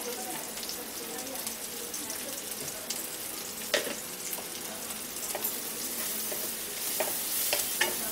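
Onion, chopped green chilies, turmeric and salt frying in oil in a pan as they are stirred, with a steady sizzle and scattered scraping taps, fairly quiet throughout.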